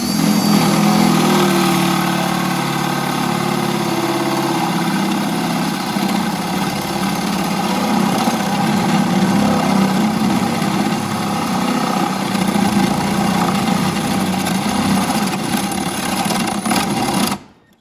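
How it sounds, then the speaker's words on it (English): Power drill bores a hole through a wooden battery box lid, a loud, continuous motor whine and grinding drone held steadily for many seconds before cutting off abruptly at the end. "I can get the drill in there"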